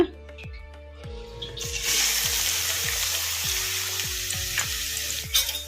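Finely chopped onions hit hot oil with a loud, steady sizzle that swells and holds for several seconds, while sharp metallic taps of a spoon against the pan come first and punctuate the frying, all close and without voices.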